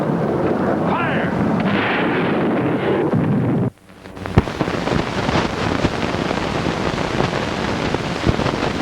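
Cosmic cannon firing in an old Columbia sci-fi film serial: a sustained roaring rush cuts off abruptly, then a sharp blast gives way to crackling, rumbling noise with scattered pops, loud and dense.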